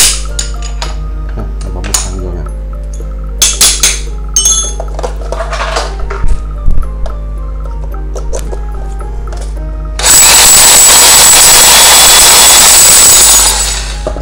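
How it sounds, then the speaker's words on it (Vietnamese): A Bosch three-function 220V, 1000W electric hammer drill bursts into loud, sustained drilling for about three seconds, following a stretch of scattered handling clicks and knocks over a steady low electrical hum. "bỏ khoan là khoan test đủ khoan cho anh em xem"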